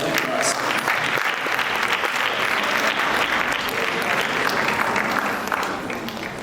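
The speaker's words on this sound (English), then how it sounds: "Another round of applause." Sustained applause from an audience at a Bharatanatyam dance recital, a dense, steady wash of many hands clapping that holds loud and even throughout before easing slightly at the end.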